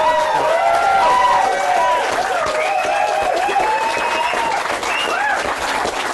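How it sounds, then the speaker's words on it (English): A live audience applauds two special guests at the close of a wrestling talk show, the clapping continuous and mixed with crowd cheers and voices for several seconds. "let's have one final round of applause for our two great special guests, Alex Shane and the lovely Jasmine."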